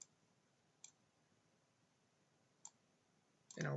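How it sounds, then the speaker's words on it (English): Two sharp, faint computer mouse clicks spaced a couple of seconds apart in a quiet room, with a louder noise at the end. "Click on a white space"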